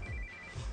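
A phone rings with a steady electronic tone and short pulses, clear and alone, in a brief burst.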